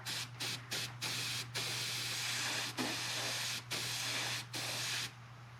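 Spray painting a coat over a stencil on a vehicle part, steady aerosol hissing in several bursts broken by short pauses, close, over a faint constant hum.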